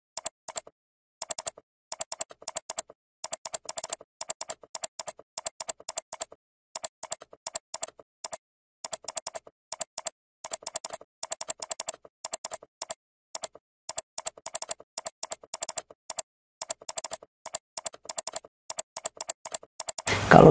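Rapid bursts of computer keyboard typing as data is entered into a spreadsheet, keys clattering in quick irregular runs with short pauses throughout, close and fairly quiet with no talking.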